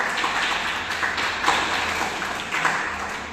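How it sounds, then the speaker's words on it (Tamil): A church congregation claps hands in steady, rhythmic bursts roughly every half second, with a bright, reverberant hall sound and no clear speech. "கையை தட்டு, அல்லேலூயா."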